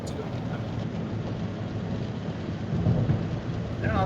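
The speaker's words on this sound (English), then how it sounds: "Anyone else hear a thunderstorm?" A thunderstorm with steady rain, heard as constant rainfall with a deep, rolling rumble of thunder that swells near the end, at moderate volume and without talking.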